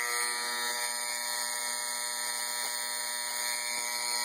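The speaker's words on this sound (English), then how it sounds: "And there goes the alarm." A vintage GE analog alarm clock, model 7281K, made in Ashland, Massachusetts, rings its alarm as a steady, continuous electric buzz that holds at an even level throughout, with no talking over it.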